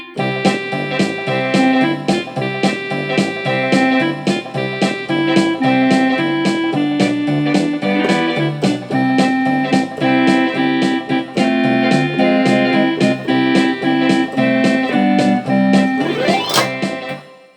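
Electronic keyboard playing Oh When the Saints over a sync-start accompaniment beat, loud and steady with a rhythmic pulse and melody throughout, ending in a rising flourish before stopping.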